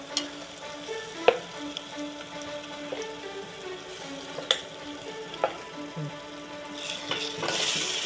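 Raw coconut paste sizzling in a pan for an Andhra-style mutton curry, with a steady frying hiss and occasional sharp taps of a spoon stirring against the pan.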